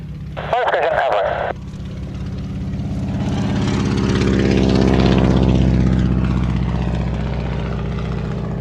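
A vintage aircraft at the Shuttleworth air show takes off from runway 20. The engine rises from a low drone to a loud, swelling roar that peaks mid-clip and then fades slightly, with a brief burst of other noise early on.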